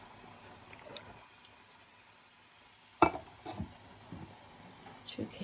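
Canned diced tomatoes are poured from a can into a crock pot for goulash, giving a short clatter and wet splash at the midpoint, followed by a few lighter knocks and clinks of can and pot.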